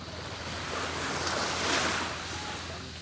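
Sea waves washing in steadily at dusk off a Philippine island beach, a continuous broad surf rush that swells slightly in the middle, with light wind noise and no voices.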